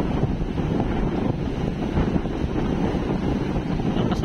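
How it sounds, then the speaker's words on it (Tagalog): Strong wind blows at sea near a boat, a loud, continuous gusting rush buffeting the microphone with a low rumble underneath and no clear speech. "Lakas ang hangin, ah."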